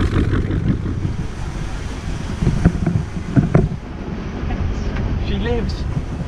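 A Freeman 23 cruiser's inboard engine idles steadily after a winter lay-up, a low rumble with water and wind noise outside, while someone talks over it.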